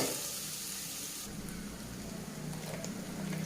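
Onion and cabbage frying in oil in a pan, a steady loud sizzle that runs throughout, with a brief shift partway through.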